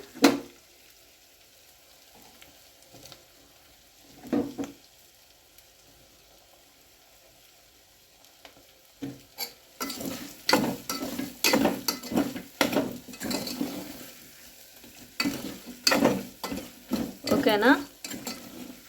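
Pork fat frying and sizzling in a pan for a ridge gourd and brinjal curry, quiet at first, then busy clinks and scrapes of a utensil stirring in the pan.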